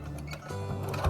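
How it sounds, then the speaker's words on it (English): Sewing machine stitching and back tacking a Christmas stocking, a short burst of close mechanical whirring with rapid needle ticks. "And now I'm going to sew. So I'm going to back tack a couple of times."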